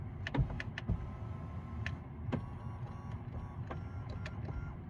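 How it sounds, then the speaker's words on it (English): Electric steering wheel adjustment motor in a Tesla Model Y, a quiet, close mechanical whir inside the cabin, punctuated by several sharp clicks and ticks over a few seconds. "Next, adjust the steering wheel."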